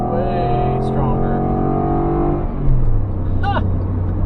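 A tuned truck with a cold air intake pulls hard under acceleration, its engine drone loud and steady and then shifting to a lower pitch, while voices talk briefly over it.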